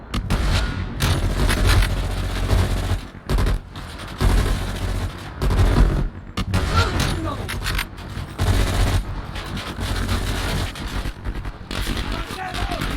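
Gunfire in the Call of Duty Black Ops Cold War campaign: loud, dense bursts of automatic weapons and booming shots, repeatedly cutting in and out, with shouted voices mixed in.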